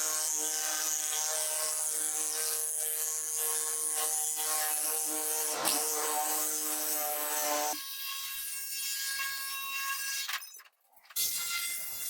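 A power tool cuts out cedar decking for a paddle board, a loud, continuous, harsh whine running for most of the stretch, then shifting in tone and briefly cutting off near the end.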